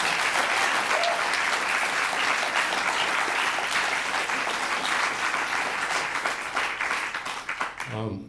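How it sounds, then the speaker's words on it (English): Applause from an audience at an evening poetry reading, honoring poet Patricia Jabbeh Wesley; dense, steady clapping fills the room, holding loud for about seven seconds before thinning and fading out at the end. "Please give her another round of applause."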